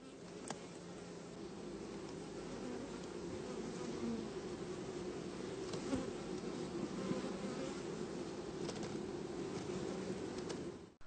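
Honeybees hum steadily and densely around an opened multi-body beehive during an inspection, a continuous close buzzing swarm sound with no talk over it.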